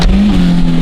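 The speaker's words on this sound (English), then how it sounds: "I just tried to do a burnout." A car engine is held at high revs during an attempted burnout, a loud, steady droning roar that fills the short burst from start to end, with no talking over it.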